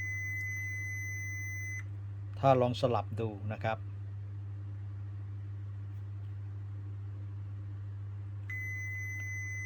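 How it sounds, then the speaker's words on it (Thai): Multimeter continuity beep while probing a shorted diode: a steady, clear tone sounds, cuts off while someone speaks briefly, then resumes continuously near the end. "แสดงเสียงปี๊บต่อเนื่องนะครับแล้วก็โชว์ค่าต่ำๆนะครับ"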